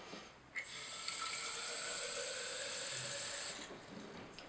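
Water runs from a tap into a storage container for about three seconds, a steady hiss that starts and stops abruptly, fairly quiet, with no talking.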